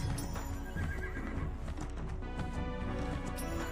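Horse in a modded Starfield space game, neighing and whinnying loudly over continuous clip-clopping hooves, close and dense throughout with no talk.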